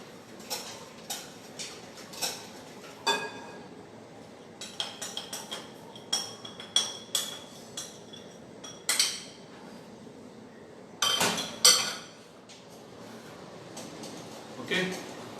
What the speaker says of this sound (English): We have mixed this powder sugar and stir it or whisk it until this sugar dissolve in this mixture.